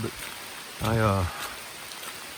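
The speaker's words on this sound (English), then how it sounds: "It's just nice walking in this rain and enjoying the sounds and the feel of the water." Steady rain patters on a hiking trail on the Appalachian Trail, a continuous soft hiss of drops heard close around the listener, with a brief spoken word rising over it midway.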